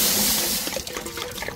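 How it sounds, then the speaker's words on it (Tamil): Water poured into a pot for Pongal, a loud close rushing gush that tapers into splashing and bubbling over less than two seconds, with no talking. "தண்ணி ஊற்றிக்கிறோம்."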